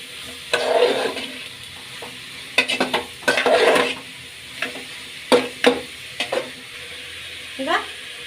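Mushrooms and onions fry in a pan for a pea and mushroom palya while a spatula stirs them, giving intermittent scraping clatters over a faint sizzle.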